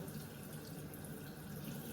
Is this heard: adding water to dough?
yes